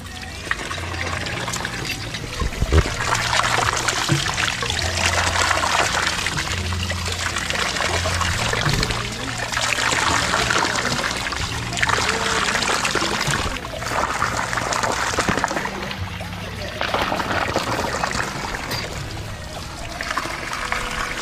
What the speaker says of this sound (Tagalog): Ay, may tubig na.